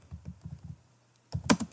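Someone types on a computer keyboard in short runs of quick, soft clicks, then pauses briefly before a sharper burst of taps, all close and fairly quiet.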